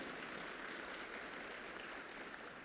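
An audience at a middle school awards ceremony claps in steady, sustained applause, a dense even wash of hand claps heard alone from start to finish.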